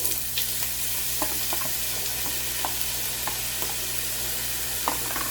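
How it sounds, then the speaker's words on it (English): Potatoes frying in a pan with caramelized onions, a steady sizzle with occasional soft stirring clicks and scrapes, close and fairly quiet, no talking. "We're gonna add our potatoes."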